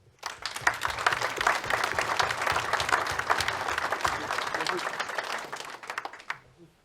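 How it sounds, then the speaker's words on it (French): Townspeople applaud at the mayor's New Year's address in Grignols, a dense, steady round of clapping from a hall audience lasting several seconds before tapering off. "Je pense même qu'on peut vous applaudir."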